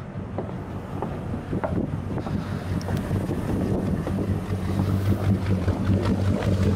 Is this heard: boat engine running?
yes